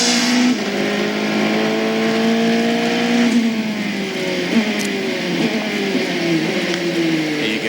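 A race car in the 2002 American Le Mans Series race accelerates hard on a short straightaway, its loud engine note rising steadily and shifting pitch through gear changes, close and sustained.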